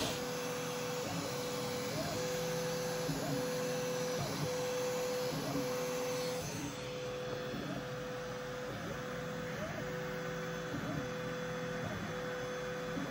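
A Galileo 2 extruder feeding plastic filament from the spool, a steady whirring motor drone with a regular clicking pulse about once a second, close and continuous, fading into a faint hiss halfway through.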